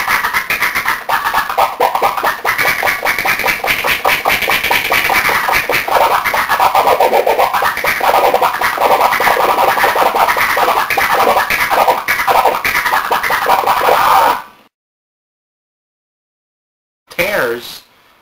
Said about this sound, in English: you're moving the record back and forth and you're cutting off